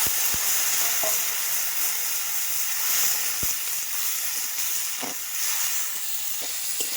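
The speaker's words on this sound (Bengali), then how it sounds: "সামান্য পরিমাণে একটুখানি জল দিয়ে মশলাটা ভেজে নিচ্ছি" Spice paste of cumin and green chili fries loudly in a pan with a splash of water, a dense continuous sizzle and hiss, punctuated by occasional spoon scrapes and taps.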